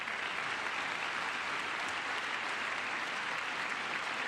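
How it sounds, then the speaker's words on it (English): Steady, even audience applause, a dense wash of clapping at moderate distance that holds constant throughout without voices or cheers standing out. "Everybody should clap for that."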